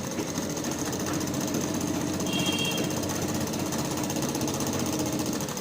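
A sewing machine runs continuously as it sews a straight line of stitching on a petticoat. Its rapid, even mechanical chatter stays close and steady, with no talking.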